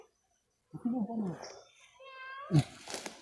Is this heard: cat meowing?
yes